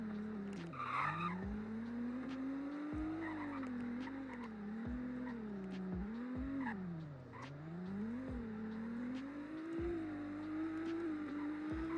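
A hypercar in the Greenville Wisconsin game races at very high speed. A high engine whine rises and falls through gear shifts and swerves, with tire squeals and skids over a continuous roar.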